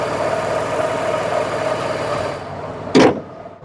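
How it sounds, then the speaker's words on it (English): A smooth V6 engine in an early MG ZT-T idles steadily and evenly at close range, then a brief loud burst of noise cuts across it near the end. "that is a very, very smooth V6 engine"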